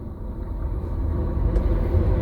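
A car's fan with a bent blade runs while the car idles in a traffic queue at a red light, giving a steady, close, low rumbling whir that holds throughout and swells slightly toward the end, with no voices.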